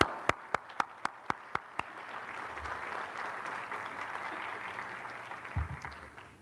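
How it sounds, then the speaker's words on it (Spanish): Audience applause for Dr. Zabalza at a university anniversary event: a few sharp, distinct claps at the start swell into a steady, moderate round of clapping from the room, with a low thump near the end. "quiero que le brindemos un aplauso"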